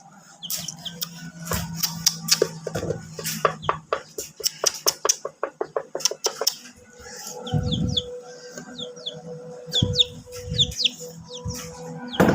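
Newly hatched chicks peep in quick high chirps among other bird calls. Bursts of rapid clicking and clattering, soft thumps and a few low knocks come and go at close range.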